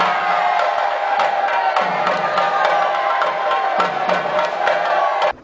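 Children cheer and shout during the coconut-throwing ritual that closes a Theyyam festival in Kerala: a dense, continuous crowd roar with scattered whoops and sharp impacts, fairly loud and sustained, stopping abruptly at the end.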